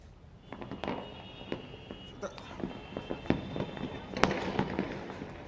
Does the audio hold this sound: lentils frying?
no